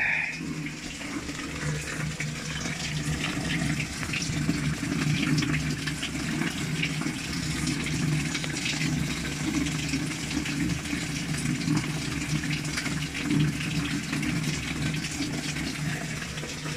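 Panasonic automatic washing machine filling with water while the water drains straight out: a steady close rush and gush of flowing water, continuous and fairly loud throughout.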